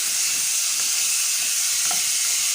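Chicken drumsticks fry in a pan with soy sauce, a steady broadband sizzle holding constant throughout with a few faint clinks and no voices.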